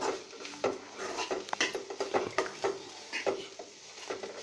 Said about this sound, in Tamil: வெங்காயம் பச்சை மிளகாயெல்லாம் போட்டு நல்லா வதக்கிக்கணும்.